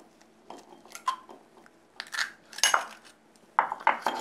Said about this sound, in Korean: 계란을 2개를 넣어줍니다.